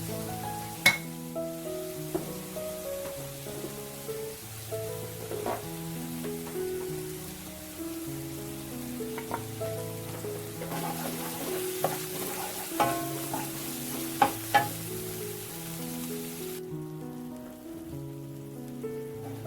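Sliced curly red chilies sizzle and crackle as they are sautéed in a pan, a soft continuous frying hiss with occasional sharp clinks of a utensil against the pan, while gentle music plays underneath.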